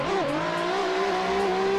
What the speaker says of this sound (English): We hear all those engines cracking